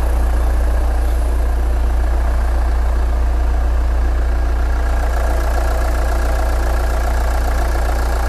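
A Hyundai engine idles steadily throughout an EGR valve check, a constant close, loud low rumble with a fairly even tone and no talk over it.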